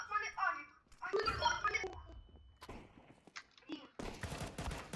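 Several bursts of Counter-Strike: Global Offensive gunfire, sharp and cracking, scattered among talking voices, with a dense clatter of shots near the end.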